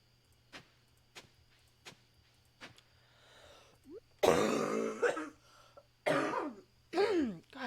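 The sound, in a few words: coughing and throat clearing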